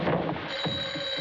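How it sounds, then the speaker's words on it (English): A telephone bell rings briefly in a thin, sustained tone over a noisy, old-film-style background. "It's the phone, stupids."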